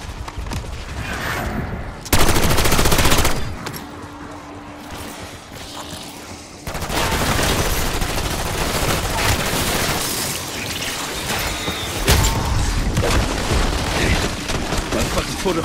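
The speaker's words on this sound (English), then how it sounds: "Impact grenade thrown!" Call of Duty Black Ops 6 combat: a sudden loud impact grenade blast followed by sustained rapid gunfire bursts, dense and close, with brief quieter gaps between volleys.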